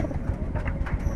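Giribaz pigeons from a village near Narayanganj cooing up close, a soft low rolling coo repeating over a steady background, with some voice underneath.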